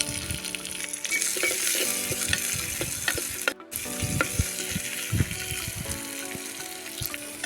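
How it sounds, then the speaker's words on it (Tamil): Shallots and dried red chillies sautéing in hot oil, a dense continuous crackle and sizzle with frequent scraping stirs of a spatula against the pan, close, with no talking. "வெங்காயம் நல்லா வதங்கிருச்சு."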